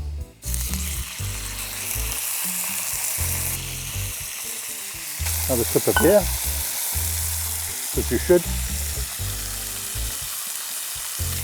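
Loud, steady sizzling of chicken frying in avocado oil in a hot pan, with occasional clinks and scrapes; a voice speaks briefly over the crackle.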